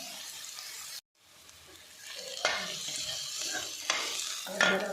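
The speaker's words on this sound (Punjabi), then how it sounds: "ਪਿਆਜ਼ਾਂ ਨੂੰ ਸੌਫਟ ਹੋਣ ਤੱਕ ਭੁੰਨਾਂਗੇ ਅਸੀਂ" Onions frying in a pan until soft for chana dal with spinach, a close steady sizzle cut by a brief silence, then renewed hiss with occasional stirring scrapes.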